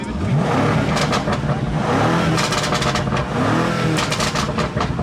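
A car engine revving hard at a car meet, loud and close, with repeated throttle surges rising and falling over a rumbling exhaust; no clear talk.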